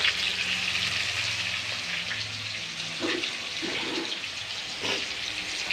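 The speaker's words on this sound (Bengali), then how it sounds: "এবার এটাকে একটু আমি নেড়ে চেড়ে লাল লাল করে ভেজে নেব।" Salted, turmeric-spiced base frying in a pan for mutton curry, a continuous close hiss and sizzle with a few faint stirring knocks.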